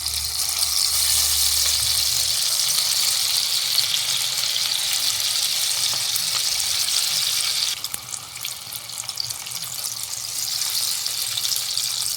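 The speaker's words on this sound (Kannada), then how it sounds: "ಎಣ್ಣೆ ಕಾದಿದೆ. ಒಂದೊಂದನ್ನೇ ಹಾಕ್ತಾ ಇದ್ದೀನಿ ಇವಾಗ." Baby corn pieces dropped into hot oil to fry, a steady loud hiss and crackle of sizzling, close up, with a brief shift in texture partway through.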